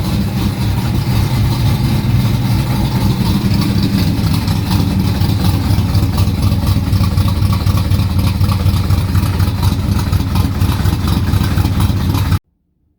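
The engine of a 1969 Corvette runs steadily with a deep, rumbling burble as the car is pulled out, loud and close throughout before cutting off abruptly.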